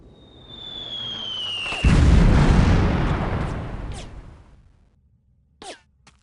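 Artillery fire in Delta Force: Land Warrior: a rising whistle cuts off into a heavy, rumbling explosion that rolls and slowly fades, followed by a couple of faint distant pops.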